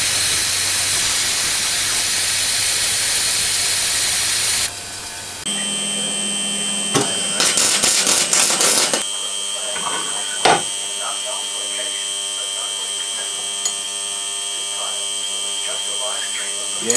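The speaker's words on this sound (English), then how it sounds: "switch the ultrasonic bath back on" An ultrasonic cleaning bath in a workshop restoring a vintage cement mixer gives off a loud, steady high hiss, then switches to a tonal electric hum with brief clicks and scattered small knocks while it runs.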